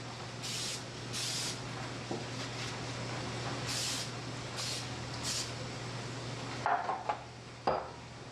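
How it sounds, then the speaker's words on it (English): Several short hissing bursts of cooking spray onto a 9x13 baking pan, close by, over a low hum, followed by a couple of light metallic knocks from the pan. "I'm going to go ahead and spray the 9x13 pan"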